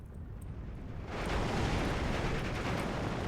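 Mortar fire in the WWII strategy game Steel Division 2, a sudden broad, roaring blast that swells and stays loud with rumbling debris after a quieter start.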